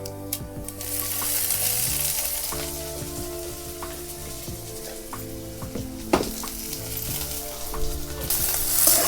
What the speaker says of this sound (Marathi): तर बघा लसूण पण परतलंय आता कांदा टाकून घेते